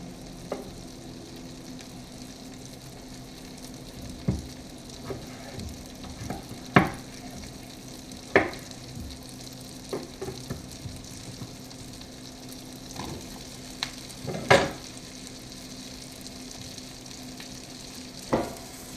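Chopped onion sizzles over high heat, a low continuous hiss punctuated by occasional sharp pops and clicks, fairly close and steady throughout with no talking.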